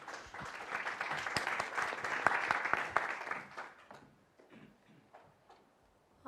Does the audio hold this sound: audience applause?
yes